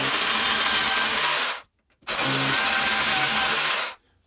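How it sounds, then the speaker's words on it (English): A power drill bores holes into a wall while mounting a DIY plant wall, running in two long, loud, steady bursts of about a second and a half each with a brief silent pause between, no talking. "let's get these holes drilled"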